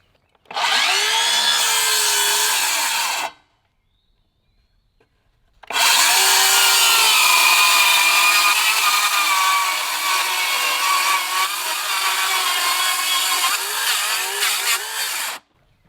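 A Makita power saw cuts cedar wood during porch framing in a cabin build, with a short loud burst, a pause of silence, then a longer sustained whining cut that bogs slightly before stopping.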